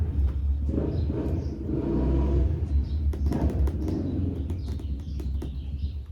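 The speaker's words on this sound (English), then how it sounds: "That truck is so loud." A loud truck engine rumbles close by with a heavy low growl that swells and holds, while faint bird coos and chirps sit in the background.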